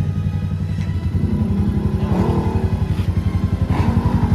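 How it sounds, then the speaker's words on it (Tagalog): Keeway CR152 motorcycle engine idling and running during a shakedown ride, a loud close rapid thumping pulse that picks up in pace and intensity, with no talking. "Para lang ma-shakedown na natin yung motor."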